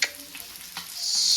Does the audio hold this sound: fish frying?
yes